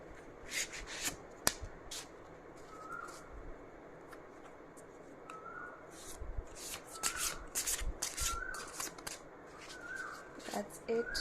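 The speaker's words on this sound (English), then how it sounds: "I'll just shuffle." A deck of tarot cards shuffled by hand in a series of close, soft riffling and slapping bursts, with a brief sharp tap early on and quiet background murmur between the bursts.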